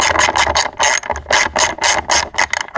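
A ratchet clicks in loud, rapid bursts while backing out a 10 mm bolt on the fairing of a 2008–2009 Gen 3 Kawasaki ZX10R, with about eight evenly spaced strokes heard up close and no talking.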